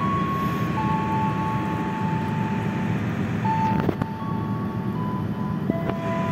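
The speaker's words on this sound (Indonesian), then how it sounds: "kereta api Ranggajati sampai stasiun Ciledug untuk menaikkan penumpang ya" Ranggajati passenger train standing at Ciledug station, a steady low rumble of idling diesel with sustained horn-like tones and a brief clank partway through, close by, no voices.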